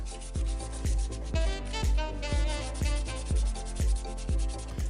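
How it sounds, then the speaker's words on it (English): Belt sander shaping a wooden 2x4 handle, loud and close, pulsing in a steady rhythm of roughly two strokes per second as the wood is pressed and rocked against the abrasive belt. "I worked it down with a rasp and the belt sander."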